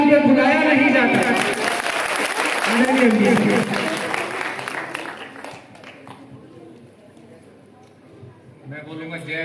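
An audience applauds to welcome a singer at a Bahujan stage event, loud dense clapping mixed with voices and a public-address tone that fades away, then speech returns at the end.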